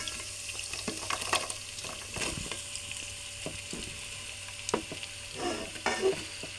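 Mixed vegetables stir-fried in a pan for a Rishi Panchami dish, with irregular scraping and clicking strokes of a spoon over a faint, steady sizzle, moderately close and without talk.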